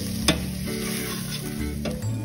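Spices being stirred in a cooking pot for chole masala, a steady sizzle under a scraping spoon, with two sharp clinks against the pot, close and moderately loud.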